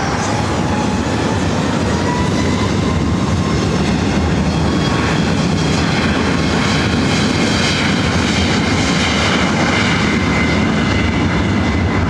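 Jet aircraft engine roaring steadily and loud as a plane begins to taxi at LAX airport, a continuous broad rumble with no pauses.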